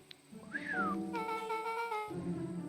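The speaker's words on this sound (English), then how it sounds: "Rollo let out a low whistle." A low whistle from a character in the video game Beacon Pines: one tone slides up, then falls, and a steadier held note follows over a soft, sustained musical backdrop.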